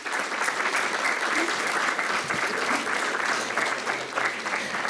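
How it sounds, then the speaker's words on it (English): A school board meeting audience claps steadily for students with high attendance, a dense, sustained round of applause at moderate volume from start to finish. "So can we have a round of applause for them?"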